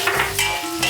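Dried chilies and Sichuan peppercorns hit hot oil in a wok, crackling in short bursts of close, lively sizzle with stirring scrapes over about a second.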